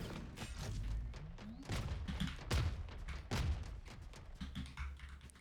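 Tejo's ultimate missile barrage in Valorant, a series of several heavy, separated explosive thumps and booms over low rumbling game ambience, fairly quiet, with faint voice in the background.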